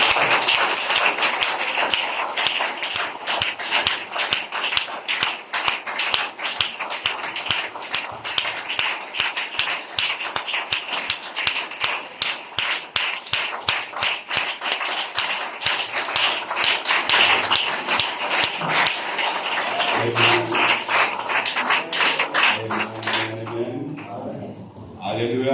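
Rhythmic clapping and acclamation from a church congregation during a sermon, steady and dense for over twenty seconds before it gives way to a voice near the end.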